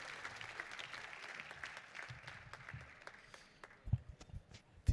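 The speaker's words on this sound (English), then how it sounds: "Let's please give the Chief Executive of Standard Bank Namibia a proper round of applause." Audience applause at an annual budget dialogue evening event, honoring the chief executive of Standard Bank Namibia; fairly quiet, steady clapping from a crowd, with a few louder, sharper claps toward the end.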